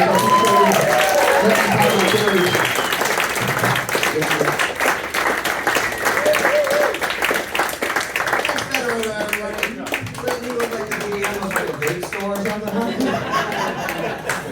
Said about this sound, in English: Please give a nice round of applause for Rob Durham.